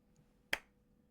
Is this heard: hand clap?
yes